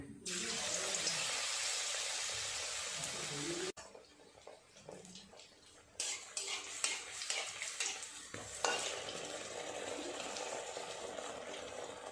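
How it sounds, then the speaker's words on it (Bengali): Eggplant slices coated in gram flour batter go into hot oil for fritters, giving a loud bubbling sizzle that cuts off, then returns with clatter and handling noises before settling into a steady frying hiss. "এক এক করে বেগুনগুলো দিয়ে দেব এইভাবে বেসনের মধ্যে বেগুন দিয়ে এইভাবে তুলে নিয়ে তেলে দিয়ে দেবো"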